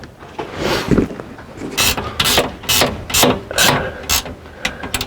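Ratcheting clicks from self-locking nuts being snugged onto slide room bolts on a Lippert slide-out, several short bursts of fast clicking, close and fairly loud with no talk.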